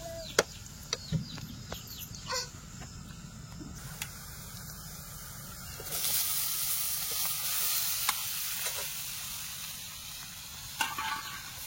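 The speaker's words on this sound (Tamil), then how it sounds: "இப்போ பார்த்தீங்கன்னா நம்ம காளானை போட்டு வணக்க ஆரம்பிச்சிட்டாங்க" Umbrella mushrooms sautéing in a pan make a quiet, steady sizzle with scattered clicks and stirring taps, the frying swelling louder midway, while faint clucking carries in the background.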